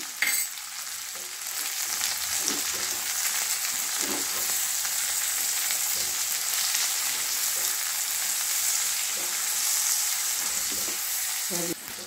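Vegetables for upma fry in oil in a kadai with a constant loud sizzle, while a spoon scrapes and stirs in occasional knocks throughout.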